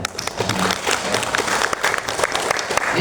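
Audience at an Indonesian government education official's speech breaks into applause, a crowd of many hands clapping with sharp individual claps standing out, loud and sustained with a faint murmur underneath.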